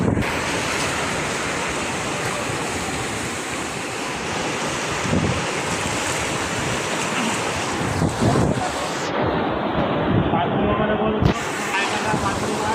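Sea waves wash steadily onto the shore of a coastal Koli fishing village at Pajpandhari, a broad continuous roar with wind buffeting the microphone throughout.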